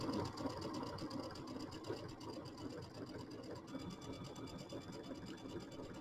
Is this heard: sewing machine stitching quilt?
yes